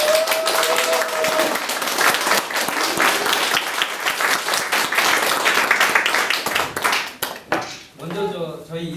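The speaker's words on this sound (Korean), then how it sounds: "4名の様をじゃあ拍手で迎えしたいと思います。" An audience claps loudly for several seconds to welcome four guests at a community co-op lecture, the applause fading out before a voice begins speaking.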